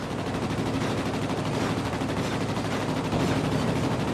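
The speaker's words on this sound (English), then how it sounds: "Now his tail gunner is going to be shooting at me." Tail gunner machine-gun fire in the World of Warplanes air combat game, a continuous loud rattling burst of rapid shots lasting the whole stretch, dense and unbroken.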